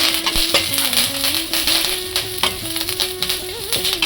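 Curry leaves and green chillies fry in a pan for bottle gourd chutney, crackling and sizzling up close with stirring clatters, and a steady tone underneath throughout.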